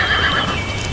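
A horse whinnies in a single sustained neigh lasting about a second, loud and close against a steady background.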